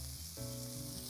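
Kofta frying in oil, a steady, close sizzle with a constant hiss that stays level through a very brief moment, with no talking.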